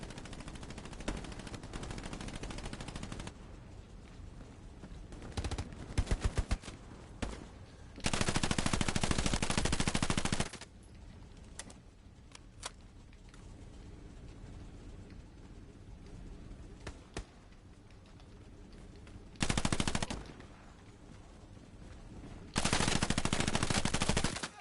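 Machine gun fire in the World War II shooter Hell Let Loose comes in several long, loud sustained bursts separated by quieter stretches with scattered single shots, close to the listener and without talk.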